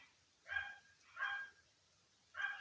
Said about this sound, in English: I can hear his bark.